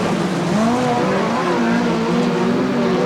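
USAC TQ midget race cars roar around the Bakersfield, California track in a dense, continuous engine drone, loud and close, with whining engine pitches layered over each other.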